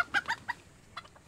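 A hen clucking nearby, a quick series of short clucks followed by one softer cluck, fairly close and otherwise quiet.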